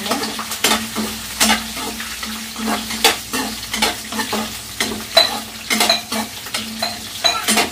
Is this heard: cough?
no